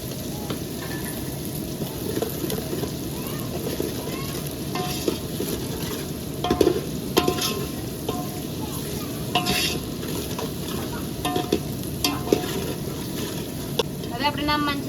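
Chili powder frying in hot oil in a pan while being stirred for a spicy dried gumla fish curry, giving a steady sizzle with scraping spoon strokes throughout.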